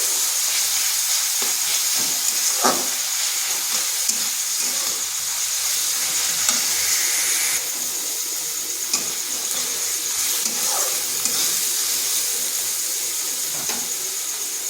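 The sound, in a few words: ginger and onion frying in a pan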